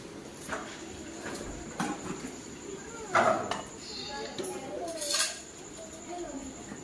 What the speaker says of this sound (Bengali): এখন আমি মাছ ভাজাগুলো দিয়ে দেব আর ঢাকা দিয়ে দেব